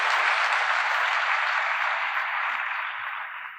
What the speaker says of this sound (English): Can we give a big round of applause for our distinguished panel?